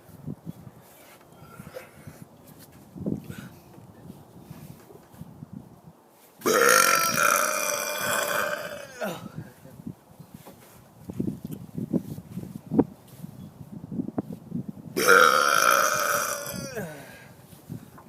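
Two long, loud, rumbling burps from a person, one in the middle and one near the end, separated by quieter handling noises and shuffling.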